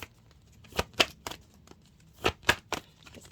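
Cards drawn and shuffled from a deck of keyword and question cards, giving a handful of soft, crisp flicks and slaps in two loose clusters, close and fairly quiet, with no talking.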